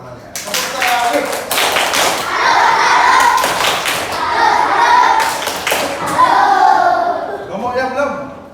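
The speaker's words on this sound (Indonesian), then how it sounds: "nah, tepuk tangan teman-temannya. Tepuk tangan." Children in a classroom clap for a classmate, loud, close rhythmic hand claps in bursts mixed with chatter and voices throughout.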